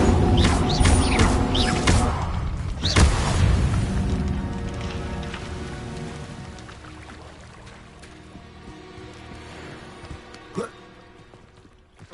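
An Incendio fire spell cast in the Hogwarts video game gives a loud whooshing burst and boom at the start that fades into a crackling rumble, with talk over it and a small later pop.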